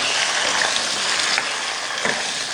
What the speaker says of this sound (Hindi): प्रॉन को ज़्यादा नहीं पकाना, तकरीबन 30 सेकंड हम पकाएंगे इसको फुल फ्लेम पर।